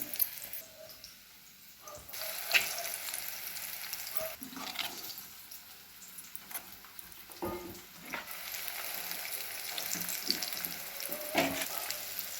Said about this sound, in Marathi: हे पण भजी मी आता एका बाजूने तळले तर दुसऱ्या बाजूने पलटी मारून तळूया